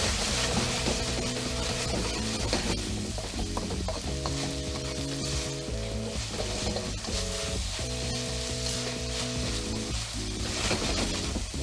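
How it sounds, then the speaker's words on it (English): Ground beef bulgogi frying in a pan, a steady close sizzle broken by scraping and clicking stirs, with background music playing throughout. "So I want to fry it, get some nice caramelization going"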